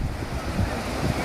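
Swollen rainy-season water rushes broadly over rocks, a dense, steady roar close by with no voices.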